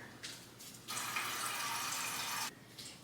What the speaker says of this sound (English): So I'm going to use my teapot to warm up some water.